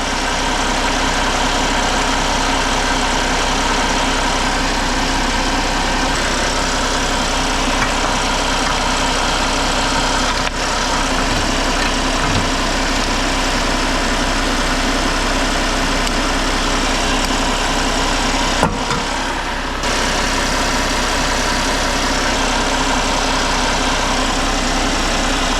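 A car engine idles on a lift during an automatic gearbox oil service. It gives a loud, steady drone for about twenty-five seconds with a brief dip near the end, with no voices.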